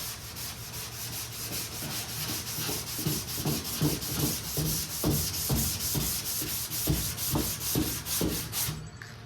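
Someone hand sands body filler on a car fender in an X pattern, making close, rhythmic rasping strokes that repeat steadily, roughly once per second, with no one talking.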